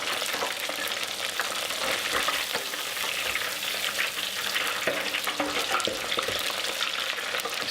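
A Scotch egg fries in hot oil, giving a steady, close, continuous sizzle and crackle with no voices over it.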